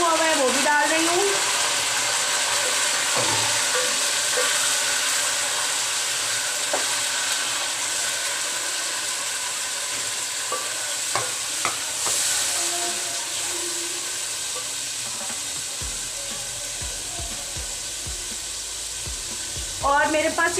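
Beef pieces with chopped garlic and ginger sizzling steadily in a hot pan for a chuqandar gosht dish, a loud continuous frying hiss with occasional stirring clatter and brief faint voice.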